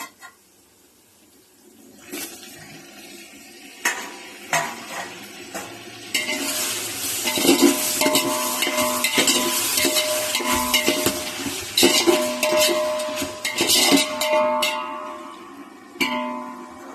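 Onions and tomatoes sautéed in a pan for mutton biryani: scattered spoon scrapes and taps against metal, building into a steady sizzle with continuous stirring and clinks, fairly close and clear throughout.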